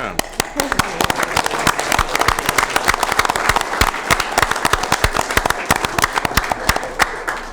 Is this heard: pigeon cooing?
no